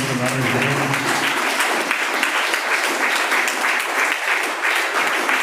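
A crowd at a student event with a gym and sports owner gives loud, dense applause to welcome guests, continuous clapping that fills the whole stretch after a brief voice at the start.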